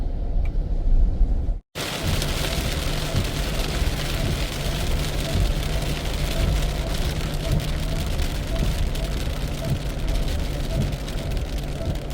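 Steady, loud broadband rain pours continuously, broken by one brief dropout near the start, with a low engine-like hum underneath as if heard from a vehicle.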